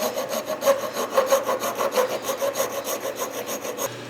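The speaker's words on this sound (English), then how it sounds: "We're going to come in here with the file because this little piece that we're going to be screwing into is a little angled" Steady rhythmic rasping of a hand file on a small angled metal piece of an ATV, close and alone, with even back-and-forth strokes about four per second.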